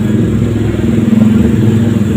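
A Honda Vario 150 scooter engine starts up close by and settles into a steady, loud mid-pitched idle for about two seconds.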